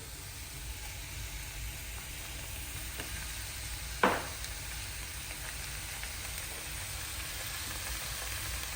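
Garlic stirred into a pot of homemade BBQ baked beans, a low steady simmering sizzle with one brief scraping stir in the middle, close and quiet, without voices.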